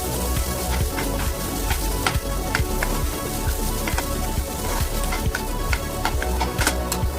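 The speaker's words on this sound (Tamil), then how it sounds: "பொடியாக கட் பண்ணி வச்சிருக்க தக்காளி போட்டு நல்லா வதக்கணும்" Finely chopped tomatoes sauté in a pan for Madurai kari dosai, giving a dense, continuous sizzle with scattered crackles and pops, steady and close, with no voices.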